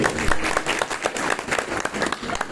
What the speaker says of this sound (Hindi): एक बार जो है जोरदार ताली इन लोगों के लिए।